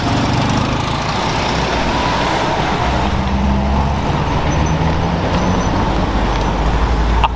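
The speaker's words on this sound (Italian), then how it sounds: "Max è tua la Topolino, 500 DS!" A vintage Topolino 500 DS at a classic car rally idles and runs steadily with a close, continuous engine drone and rumble lasting several seconds, with no talk.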